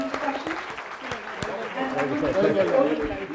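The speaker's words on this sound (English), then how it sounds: "let's have a huge round of applause once again for that" Convention audience applauding after a panel discussion, a steady patter of many hands clapping with sharp individual claps standing out, growing slightly fuller toward the end, with chatter and talk mixed in.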